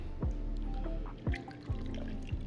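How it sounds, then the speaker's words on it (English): About a cup of water is poured into a pot of curry coconut ramen noodle soup with corn and vegetables, a close splashing pour with a few gurgling bursts. "I just probably want to add about, I would say about a cup of water."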